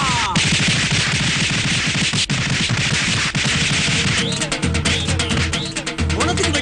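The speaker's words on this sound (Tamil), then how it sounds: "பொணத்துக்கு வெடி வச்சிருக்காங்க." Firecrackers set off at a funeral, rapid bursts of sharp crackling pops in dense strings, with drums and shrill horn tones joining later in the background.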